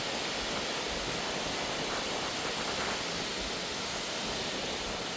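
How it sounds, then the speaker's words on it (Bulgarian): Small river stream and waterfall near the village of Tazha in Bulgaria, roaring as a loud, dense, steady rush of water with no breaks. "Рекичката, която слиза от водопада, и ето го и самия водопад."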